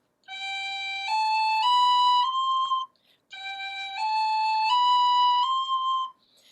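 Tin whistle phrases played twice, each a clear, pure-toned run of notes stepping upward through the C natural fingering, loud and close with a short pause between the two repeats.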